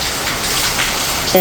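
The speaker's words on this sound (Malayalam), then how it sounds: "കണ്ടോ, നല്ല മഴ പെയ്യുവാണ്." Heavy rain falling at the front of a house, a steady gushing hiss of water without pause, with a short tonal sound rising at the very end.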